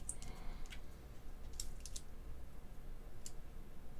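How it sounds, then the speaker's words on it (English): Light plastic clicks as DSA keycaps are pressed onto a White Fox mechanical keyboard, with a few sparse, close taps scattered over a steady low room hum. "Throw a few keycaps on."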